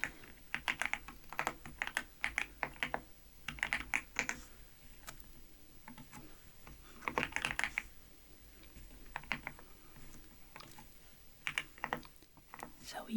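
A computer keyboard clatters under soft-spoken talk, with bursts of rapid keystrokes between quieter stretches of steady voice, close and gentle.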